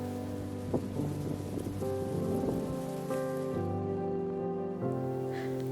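Rain falls steadily, a dense, even patter of raindrops with occasional louder drips, heard over a faint low tonal hum.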